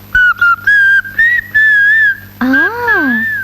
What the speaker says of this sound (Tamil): விசில் வேற அடிக்கிறியா?